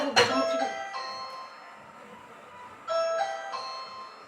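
A two-tone electronic doorbell chimes, then rings again a few seconds later, fairly close with faint background noise between.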